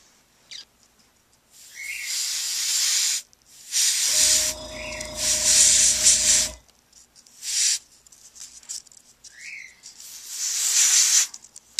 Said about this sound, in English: now I'm going to show you how to actually paint it in this color using the airbrush